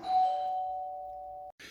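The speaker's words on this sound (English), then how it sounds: "There goes the bell." A single doorbell chime rings once, a clear sustained tone that slowly fades over about a second and a half before cutting off, followed by a brief burst of noise, with no talk.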